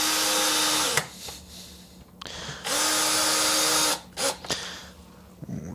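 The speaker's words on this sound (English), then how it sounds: "we're going to take this with a drill, get it close, just like the bridge" A power drill whirs in bursts while working on a vintage Squier Stratocaster guitar: a sustained high whine, a short stop, then another longer run, followed by a few brief stuttering spurts.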